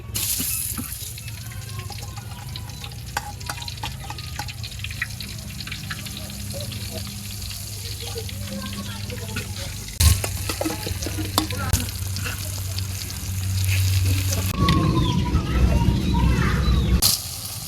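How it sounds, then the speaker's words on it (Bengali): Eggplant slices frying in oil in a wok in a village kitchen, a steady close sizzle with scattered clinks and stirring scrapes that swells louder near the end, with some background sound. "এই কড়াইতে আমি বেগুন ভেজে নিমু একটু তেল দিয়ে দিলাম"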